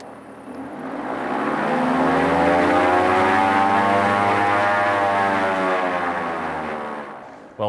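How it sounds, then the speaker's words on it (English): Both engines of a Diamond DA62 twin-engine propeller aircraft run up together, a loud, steady droning roar with a rising and falling harmonic whine that swells over the first second, holds, then eases near the end. "It runs the engines up without the throttles even moving, which is pretty amazing."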